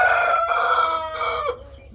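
Rooster crowing on a heritage chicken farm, one long drawn-out crow up close that rises and holds before trailing off, with nothing else audible behind it.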